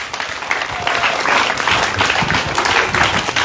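Audience applause for a brother and sister at a shelter home's Mango Day celebration: dense, steady clapping from a crowd that carries on at full strength throughout.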